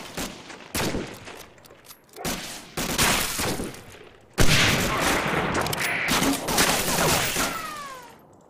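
Gunfire from the Medal of Honor: Allied Assault video game on a snowy park map, with bursts of automatic rifle fire and single shots in close, sharp, irregular volleys, growing denser and more sustained in the second half.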